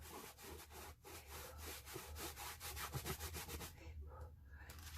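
Wood on a cradle board is sanded by hand in quick repeated back-and-forth strokes, a faint rhythmic rasping close by with no talk.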